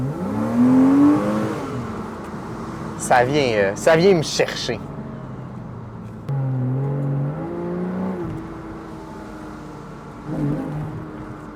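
A 2008 Porsche Boxster engine rises through a couple of quick revs in the middle, the pitch sweeping upward, then settles to a lower drone while someone talks over it.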